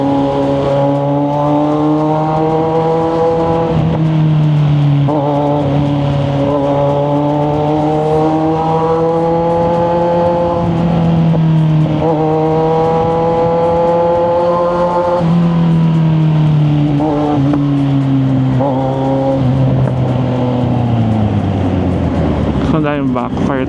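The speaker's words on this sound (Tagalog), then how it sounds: "Yung backfire talaga." Big bike motorcycle riding in heavy traffic, engine revving up and down in repeated rising and falling pulls with a sharp crackle at the end; loud and close, with talk over it.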